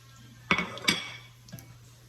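Bacon being stirred back into a rice topping in a pan with parsley, two quick metallic scrapes of a utensil against the pan close up, then a softer third knock.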